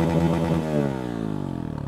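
A modified racing motorcycle, GPX Demon 250R or CFMoto 300SR, revs hard nearby then its exhaust drops into a rapid, lumpy idle with a falling pitch, loud and alone.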